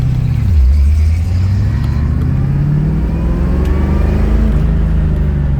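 A 1984 Chevrolet Corvette engine rumbles close by, revving up as the car pulls away down a driveway, with a deep steady drone and shifting pitch.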